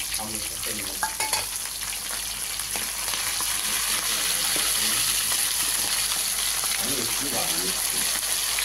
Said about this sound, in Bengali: পেঁয়াজ মাছের মাথাটা ভাজা হোক